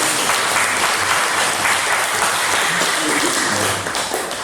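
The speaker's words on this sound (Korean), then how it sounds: "우리 모든 성도들이 위로의 박수로 맞아주시고" Congregation clapping in comfort at a Sunday church service as a bereaved family is welcomed, dense, sustained applause throughout, loud and close, filling the sanctuary.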